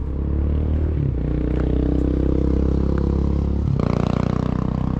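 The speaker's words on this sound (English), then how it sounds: "hearing that loud motorcycle" A loud engine drones steadily throughout, swelling again near the end like a motorcycle revving as it passes close by.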